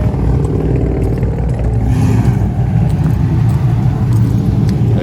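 A car pulls up at a Mopar car show, its engine a steady, loud low rumble close by, with crowd chatter and outdoor bustle around it.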